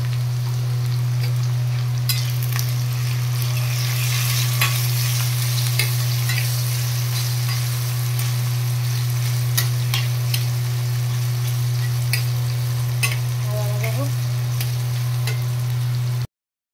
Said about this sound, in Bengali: রুটির সাথে আলু ভাজা করব।